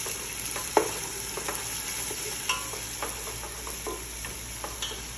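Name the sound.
stirring onion, garlic and ginger frying in olive oil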